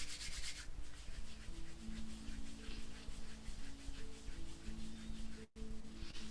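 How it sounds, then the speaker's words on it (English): Palms rubbing briskly together during a loosening exercise routine, a steady close swishing friction in quick repeated strokes that continues for several seconds with a brief break near the end, no talking over it. "rub your hands together and polish the face"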